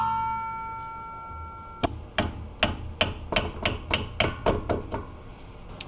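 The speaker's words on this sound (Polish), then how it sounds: "Blaszkę należy czymś dobić od góry. Ja do tego używam młotka z gumowym zakończeniem." A rubber-tipped mallet taps a brake line retaining clip into place on a car: after a quiet lead-in with a fading hum, about ten close, crisp knocks follow in a quick, fairly even rhythm.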